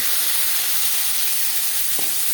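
Onions go into hot oil after dried red chillies have fried, for chichinga with masoor dal. A loud, steady hiss and sizzle runs throughout, with one brief clink near the end.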